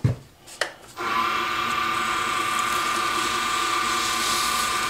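Steady, high abrasive whirring of mule deer antler being sanded with 400-grit sandpaper begins after a brief pause and runs on evenly without a break.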